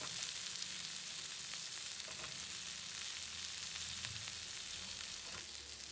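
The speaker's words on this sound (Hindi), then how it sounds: "मशरूम को थोड़ा सा पकने तक इसको चलाना है, पकाना है हल्का सा" Peanuts, peas and mushrooms sizzle in a pan, a dense, even frying hiss that runs throughout, with faint stirring scrapes and no voices.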